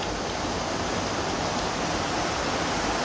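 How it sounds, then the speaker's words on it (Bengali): Heavy rain pours down in a dense, unbroken roar, loud and close, a constant wash of noise with no voices over it. "অনেক জোরে বৃষ্টি হচ্ছে।"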